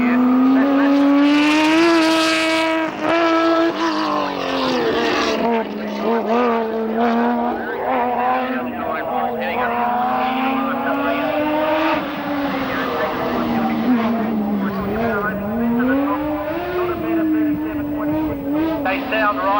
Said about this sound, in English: they're heading up the hill in the 62 Commodore